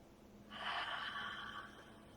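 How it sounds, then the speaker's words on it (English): A single long breath during a Vinyasa yoga class, drawn in and let out over about a second and a half as a soft, airy rush, close and clear in an otherwise quiet room. "Now we'll take a breath in and out."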